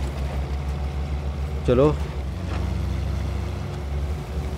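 A Mahindra Thar 4x4 pulling a trailer off-road has a steady low engine throb running throughout, close and continuous, while someone speaks briefly over it.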